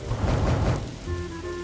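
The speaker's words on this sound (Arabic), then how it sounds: "ده لسه بتشتي" Rain pouring in the video game 99 Nights in the Forest, a loud dense hiss with a rumbling low undertone that thins after about a second as a steady tonal hum takes over.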